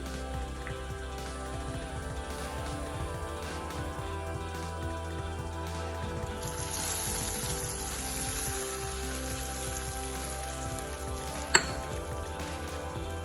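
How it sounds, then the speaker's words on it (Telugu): Chili powder stirred into hot oil, with the stove switched off, for a South-style dal khichdi gives a quiet, steady sizzle and crackle that runs throughout, with a single sharp clink from a spoon near the end. "ఇప్పుడు స్టవ్ ఆఫ్ చేసుకొని స్పూన్ కారం వేసుకుంటాం."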